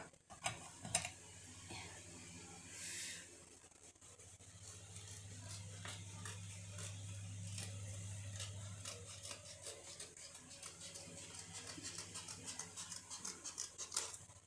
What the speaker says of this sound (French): je sais pas si mon massicot va tout couper d'un coup